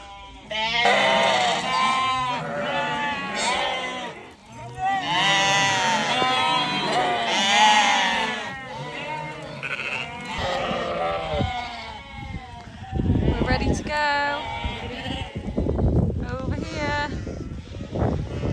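Restless sheep bleating repeatedly on a farm, several loud, close calls overlapping in the first half, then scattered bleats under wind buffeting on the microphone.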